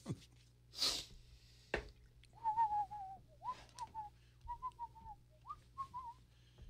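Someone whistles a short, bouncy tune in brief phrases, quiet and close, with a few breaths and small clicks between the notes.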